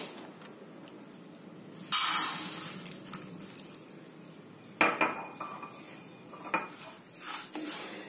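Moong dal dry-roasts in a pan on the stove. A spoon scrapes and clatters against the metal in irregular bursts, with quieter stretches between the louder stirring strokes.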